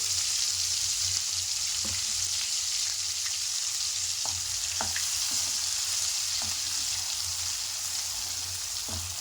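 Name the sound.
frying masala in oil until oil separates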